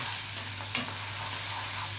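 Steady sizzle of chilies frying in tempering oil for rava upma, with a faint low hum beneath, plus a brief clink of a spoon partway through.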